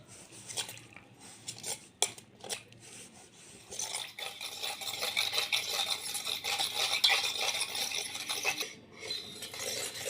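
Milk and date palm jaggery being mixed in a bowl, with a steady scraping, rubbing stir that starts in short separate strokes and settles into continuous brisk mixing, close and moderately loud, with no voices.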